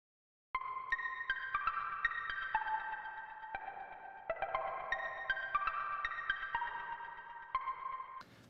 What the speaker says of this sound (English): It's like a plucky bell type thing that just sounds really cool.